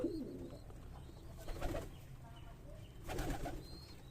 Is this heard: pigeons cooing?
yes